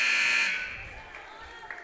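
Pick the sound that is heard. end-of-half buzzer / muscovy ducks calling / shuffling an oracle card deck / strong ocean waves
end-of-half buzzer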